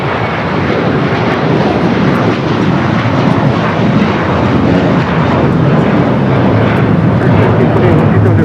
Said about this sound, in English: Got a Delta A350-900 rolling down the 24 left there on the north side.